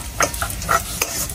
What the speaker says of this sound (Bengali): পেঁয়াজটা হালকা ভাজা হয়ে গেছে, এখন সবজিগুলো যে ভাজা রাখছিলাম এগুলা দিয়ে দিব।